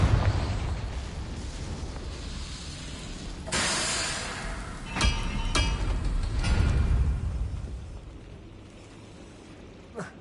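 Confringo blasting spells explode in the video game Hogwarts Legacy, several booming bursts in quick succession over a rumbling battle din.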